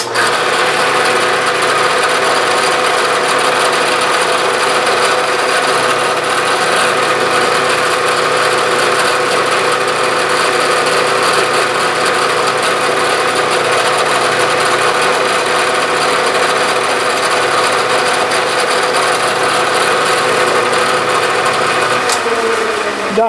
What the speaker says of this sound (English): Okay, I've drilled 10 holes, 2 more to go.